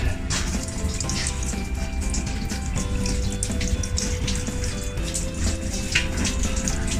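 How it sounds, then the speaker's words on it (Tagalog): An LG washing machine with a continuous-drain fault steadily pours out water while filling, a loud unbroken gushing and splashing close by that holds the whole time with no talk. "So tuloy-tuloy din yung tapon ng kanyang tubig."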